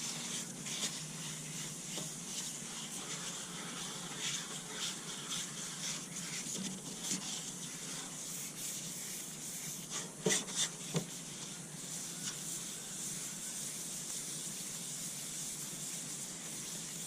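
Primer surfacer on a Honda CBR250R MC19 fuel tank is hand sanded in circular strokes, making a soft continuous hissing rub that runs close and steady, with a few slightly louder scrapes and no talking.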